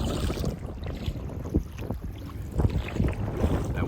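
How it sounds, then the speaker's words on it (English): Gusty wind buffets a kayak out on the open water of the Au Sable River in Michigan, with low rumbling microphone wind noise rising in uneven surges alongside faint water and paddling sounds. "out here on the open water, this wind picks up and it's getting choppy"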